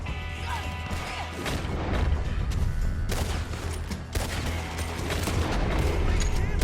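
Gunfire in Red Dead Redemption 2 during a chaotic firefight, with loud repeated gunshot blasts and cracks in quick succession over a dense, noisy background.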